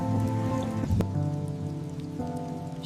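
Rain falls steadily and evenly on a surface throughout, blended with soft, sustained tonal music.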